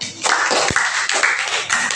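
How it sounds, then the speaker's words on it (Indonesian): A classroom of students claps for the first group during a teaching session, a dense, fairly loud burst of overlapping hand claps that swells and dips for about two seconds. "Beri tepuk tangan untuk kelompok 1."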